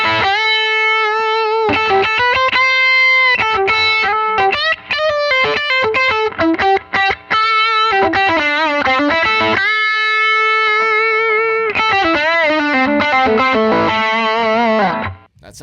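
Electric guitar run through a Boss overdrive pedal plays a loud, continuous distorted melodic line with sustained notes and quick runs, with no one talking.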